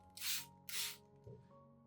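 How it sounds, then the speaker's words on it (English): Two short, close bursts of a hand spray bottle misting a nutrient solution onto orchid and Zamioculcas leaves and stems, each hiss lasting about half a second, followed by faint handling noises. "Spraying lightly on the leaves and stems helps the plant absorb additional natural nutrients"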